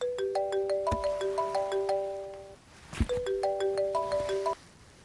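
A telephone ringtone plays a repeating electronic melody of bright stepped notes, loud and close, in two phrases split by a brief thump and pause.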